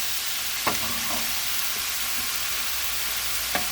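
Cabbage frying over high heat in a pan as it browns and caramelizes, giving a steady close sizzle with a few sharp utensil clicks against the pan.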